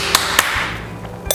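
Screwdriver handle tapping a new bearing into a wheelchair front wheel: three sharp metallic knocks, close and clear, spaced apart with quiet between them.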